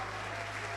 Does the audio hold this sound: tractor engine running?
no